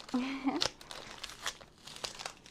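Sticky packing tape torn off a plastic cup during a plant unboxing, a short crinkling rip with a rising squeak, followed by soft rustling and handling noises; a voice speaks briefly nearby.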